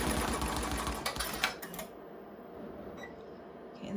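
An embroidery sewing machine stitches a sunflower key fob, a rapid steady mechanical chatter that runs close and loud for a couple of seconds, then drops to a faint hum with a small tick before stopping.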